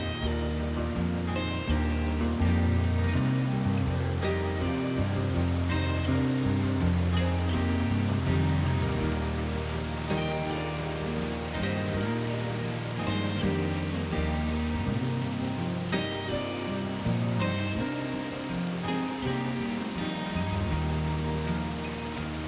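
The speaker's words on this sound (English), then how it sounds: "But the best part is this incredible waterfall." Golden Creek Falls pours steadily beside a campsite, a continuous dense roar of falling water that stays loud and even throughout with no voices.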